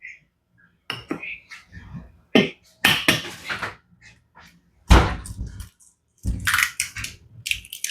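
Egg cracked into a mixing bowl while baking snickerdoodles: a few sharp taps and clicks of shell on the bowl rim, scattered bursts of crackling and clattering close by, with short pauses between, no talking.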